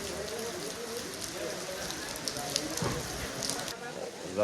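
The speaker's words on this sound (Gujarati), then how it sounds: "ફૂલ વરસાદ આવવા મળ્યો" Rain falls in a steady, hissing patter on a surface in Omkareshwar, constant throughout, with faint voices and a few small knocks in the background.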